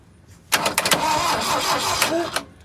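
An old Toyota forklift engine cranks repeatedly in a rapid churning rhythm, sputtering without catching, close by and fairly loud.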